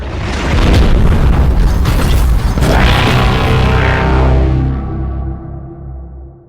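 In the Rec Room game, a deep booming explosion plays for a summoning animation, loud and sustained with a rumbling burst in the middle, then fades and rings out toward silence at the end.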